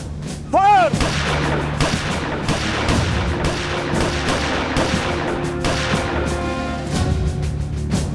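Rifles fired in a TV crime drama, a rapid series of loud sharp gunshots close by with a few overlapping volleys, and a brief shout near the start.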